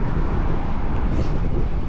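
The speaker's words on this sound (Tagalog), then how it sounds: "Talaga malakas ang hangin" Strong wind buffets the microphone on a long, windy bicycle ride, a loud continuous rumbling roar with no voice.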